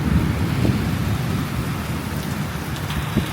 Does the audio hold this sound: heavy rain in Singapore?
yes